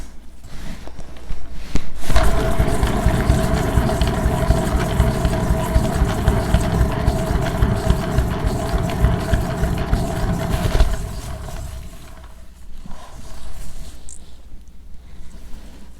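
A fluid art paint spinner whirs loudly and steadily with a broad rushing hum for several seconds, then winds down and stops, leaving a quiet room.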